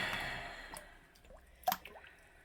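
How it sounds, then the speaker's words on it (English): Thick malt extract is rinsed from its can with hot water while brewing a ruby porter, giving a few faint, wet drips and squelches with one sharper gloopy plop near the end. "Now we're adding the malt extract."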